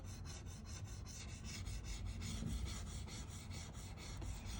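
Graphite is rubbed down on paper with steady, close, rhythmic scratchy strokes that repeat evenly for several seconds.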